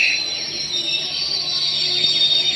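The Teesta Torsa Express pulls into a station with wheels squealing in a sustained high-pitched screech above a steady rumble of rolling railcars, loud and close, with no voices over it.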